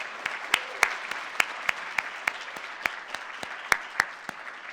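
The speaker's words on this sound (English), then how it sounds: "let's give them a great round of applause" Sparse applause for a house band at the Gaithersburg State of the City 2025 event: a handful of separate, sharp hand claps land irregularly over a quiet room rather than a full ovation.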